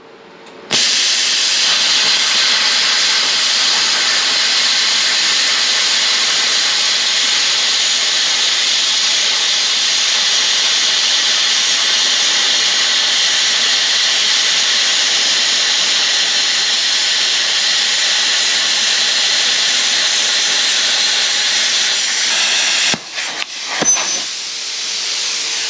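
An Arccaptain CUT65 plasma cutter slices through 1/2 inch steel plate, making a loud, steady hissing roar that starts abruptly, runs unbroken for over twenty seconds, then cuts off with a few brief sputters.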